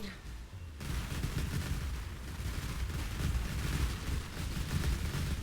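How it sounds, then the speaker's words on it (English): Frostbolt spells in Path of Exile firing like a machine gun, a dense continuous rattle of rapid shots that starts abruptly and keeps going steadily at loud volume, mixed with game effects. "Sounds like a straight machine gun."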